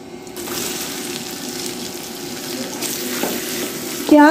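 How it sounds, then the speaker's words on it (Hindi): Onion and garam masala fry in hot oil for keema matar, giving a continuous close sizzle with light stirring and a small clatter at the end. "इसमें मैं डालूंगी ये प्याज"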